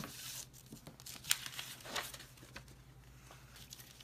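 Scissors snip through a square of paper, cutting away its middle part: a few quiet, close crisp cuts and rustles with small papery crinkles, heard alone in a still room.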